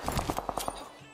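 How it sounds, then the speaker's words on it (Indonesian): A short burst of gunfire in PUBG Mobile: about seven quick, evenly spaced shots over under a second, fairly quiet and distant-sounding, with a low rumble underneath. "Tuh yang tembak-tembakan tuh."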